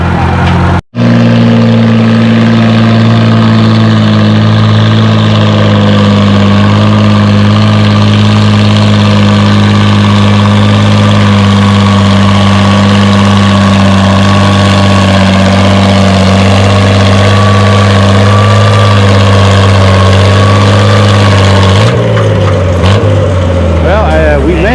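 A pulling tractor's engine drones loud and close throughout a tractor pull, holding a heavy, sustained roar with a steady low hum before dropping off near the end.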